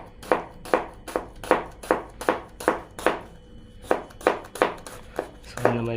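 A knife chops ingredients finely on a board for Bombay-style peanut chaat, about a dozen crisp, evenly spaced chops close up, with a brief clink at the end.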